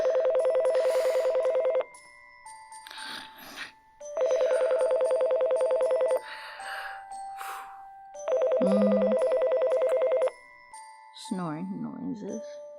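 A telephone rings in three long electronic bursts separated by pauses, with brief talk and vocal noises in the gaps.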